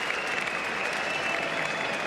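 A cricket crowd at a Test match at the Gabba in Brisbane applauds steadily, a dense, even wash of clapping throughout.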